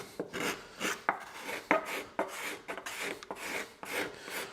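A carving tool shaves across the grain of a wooden fan carving. Short, rhythmic rasping strokes come in quick succession, close and fairly quiet, with no talking.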